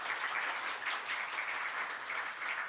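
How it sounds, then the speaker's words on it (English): Applause from a conference audience for a panel, a fairly faint, even patter of clapping heard from a distance, continuing without a break. "A round of applause to our panel."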